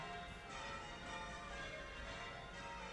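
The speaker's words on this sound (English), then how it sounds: "The bells are ringing." Church bells ring faintly and steadily in the distance, their tones blending into a continuous wash beneath wind noise.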